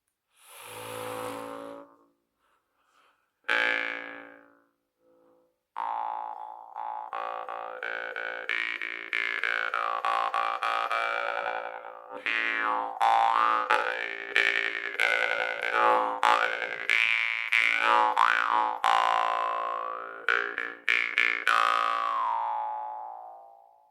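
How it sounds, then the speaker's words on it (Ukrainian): A jaw harp twangs continuously with a buzzy, wavering tone whose overtones sweep up and down, after a few short plucks at the start. "І варган уже заводиться від подиху."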